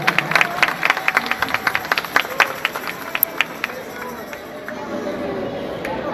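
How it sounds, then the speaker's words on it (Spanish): A church audience at a 2018 Christmas carol contest applauds a children's choir, with a dense burst of claps up front that thins and settles into a lighter patter, crowd murmur and some chatter underneath. "Para quien pide un fuerte voto de aplausos a los niños"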